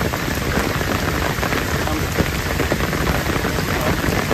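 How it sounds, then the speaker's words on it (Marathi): Heavy storm rain pouring outdoors during catfish fishing, a dense, steady loud hiss of drops on surfaces throughout, no talk. "पाऊस जाम लागलाय, तुफान लागलाय"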